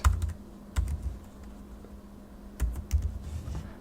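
Computer keyboard typing during Wireshark filter entry on Rocky Linux, a few quick bursts of keystrokes at the start and again near the end, separated by a quiet pause over faint low hum.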